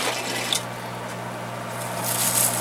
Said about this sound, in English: Just going to turn the timer until the pump comes on.